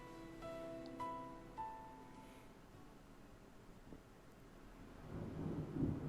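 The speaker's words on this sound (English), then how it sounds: "Thunder snow is coming." Deep rumbling thunder building into a loud, rolling swell near the end of a snowy thunder snow storm in the video game Deadly Premonition 2, preceded by a few soft tonal chimes over a steady low ambient bed.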